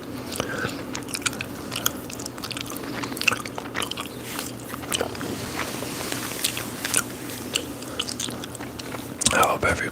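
ASMR gum chewing and candy eating close to the microphone, a steady run of wet chews, bites and small crunches, with a louder crinkly burst near the end.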